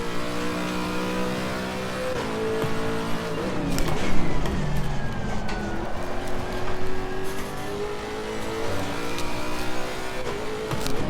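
A race car engine in the Assetto Corsa Competizione racing game revs hard with the rear wheels spinning, its droning tone rising and falling as power is fed in, loud and steady throughout with no talking.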